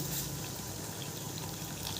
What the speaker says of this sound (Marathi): आता या मसाल्यामध्ये आपण इथे गरम पाणी टाकणार आहे